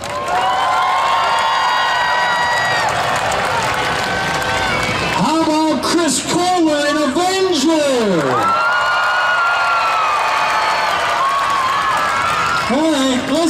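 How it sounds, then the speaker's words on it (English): Crowd at a monster truck show at the 148th Armada Fair cheers and applauds loudly and steadily while an announcer talks over a PA. "Let's give him just a round of applause."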